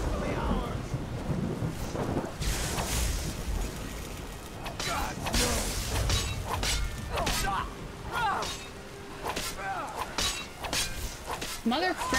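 A thunderstorm in the video game Skyrim rumbles with rolling thunder and rain beneath someone talking over it, with sharp crackling bursts scattered through the stretch.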